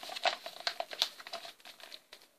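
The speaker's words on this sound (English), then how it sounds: "I'm just trying to fold the picture." A paper photograph is folded by hand nearby, giving quiet crinkling and creasing crackles in short irregular bursts with no talk.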